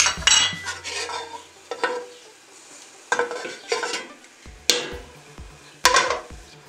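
Butter melts with sage leaves in a pan, a soft sizzle running underneath while a utensil scrapes and clinks against the pan in several separate strokes, close and without talk.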